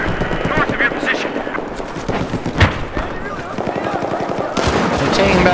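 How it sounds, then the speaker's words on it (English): Enemy machine gun fire in a first-person shooter game rattles in dense, continuous bursts close by, with heavy sporadic shots and battle noise layered over it. "There's an enemy machine gunner north of your position."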